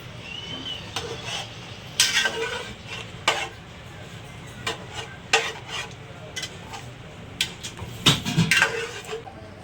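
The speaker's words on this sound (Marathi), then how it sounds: "तर आहे ना आता मटण आपण चांगलं मिक्स करून घेऊया." Mutton curry being stirred in a pot with a utensil, scraping and clinking in irregular bursts over a faint sizzle, close and moderately loud, no talking.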